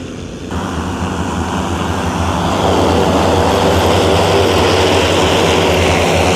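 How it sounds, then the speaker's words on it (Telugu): An agricultural crop-spraying drone flies close by with a loud, steady propeller whine and engine-like roar that holds throughout, swelling slightly partway through, with no talk. "చూడండి డ్రోన్ ఇది ఎలా ఉందో"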